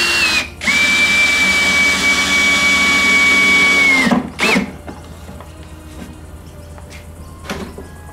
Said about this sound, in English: put one screw in each corner at the top, making sure that you keep it square in that corner